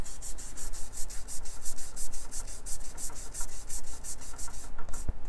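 Eraser rubbed lightly across a pencil sketch of Spider-Man on paper, a steady rapid back-and-forth scrubbing, close and fairly quiet, ending with a small tap.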